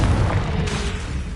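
A Confringo explosive spell blast from Hogwarts Legacy, a single broad booming burst that stays loud and rumbling for about a second without dying away, with no voices over it.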